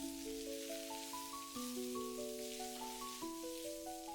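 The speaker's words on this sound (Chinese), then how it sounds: "接着把准备好的青椒片也倒在菇中，这里我们开大火翻炒均匀" King oyster mushrooms and green pepper slices stir-fried over high heat give off a steady, continuous sizzle, partly masked by a background music melody.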